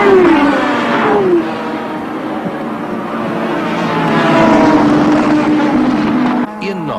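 A loud turbocharged four-cylinder IMSA GTP racing car engine, 1988, roars and revs, its pitch rising and falling as it passes close by, with a voice heard faintly beneath.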